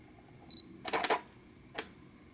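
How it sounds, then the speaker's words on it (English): Two quiet mechanical clicks on a Canon EOS 6D with a battery grip: a light, short half-press click, then a louder crisp double-click of the shutter release, and another sharp click a moment later. "So the first thing we're going to test is the shutter button"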